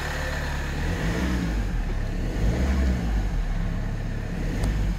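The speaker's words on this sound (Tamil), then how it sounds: "வெஹிக்கிள் வந்து ஸ்டார்ட் ஆகிடுச்சு." A 2018 Mahindra XUV500 runs with its engine going after a start from a programmed smart key, giving a steady low rumble close by that swells slightly midway, with no talking.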